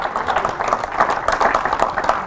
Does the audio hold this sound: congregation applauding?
yes